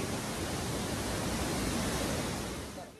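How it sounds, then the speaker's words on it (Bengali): Tuirihiau waterfall in Mizoram, swollen with monsoon water, pours as a dense, steady broadband rush that stays even throughout and fades slightly at the end, with no voices. "দেখতে পাচ্ছেন পিছনে যেই তুহিয়ারু ওয়াটারফলস, অসাধারণ জাস্ট। আর বর্ষাকালে তো জল ভর্তি।"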